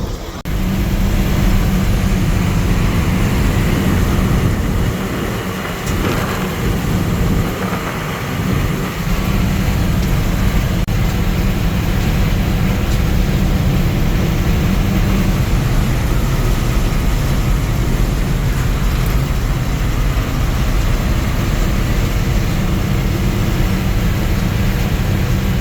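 A Ford F800 truck cruising on the road at about 2,000 RPM and 55 mph, with a steady loud engine drone and road roar filling the cab without pause.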